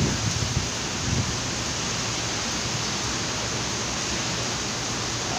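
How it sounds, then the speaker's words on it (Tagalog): Strong typhoon wind and heavy rain roar as a dense, constant wash of noise, loud and close, with a few gustier bumps near the start and no talk. "Lakas ng hangin, ulan."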